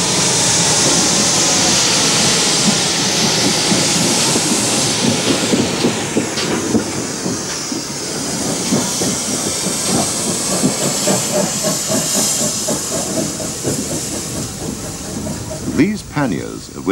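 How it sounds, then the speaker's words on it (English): A GWR 5700 class pannier tank steam locomotive runs with a loud, continuous hiss of steam over a dense, rhythmic chuffing and rail clatter, heard close, while a voice talks over it. "5700 pannier tank, an example of the most numerous class of Great Western engine"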